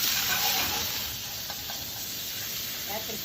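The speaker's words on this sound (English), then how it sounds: "Add your chickpeas." Drained, rinsed chickpeas hit olive oil in a smoking-hot pan, giving a loud, steady sizzle and hiss with a few faint pops and scrapes, and no voice.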